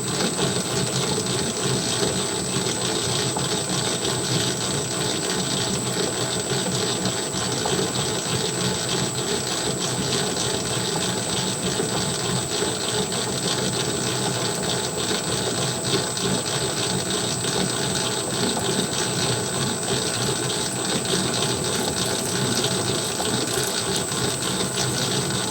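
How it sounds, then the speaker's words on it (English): Famag spiral stand mixer kneading a large batch of pizza dough, a steady continuous motor whir and hum with faint rhythmic mechanical ticking, close and even throughout with no talking. "It's a pretty quiet mixer."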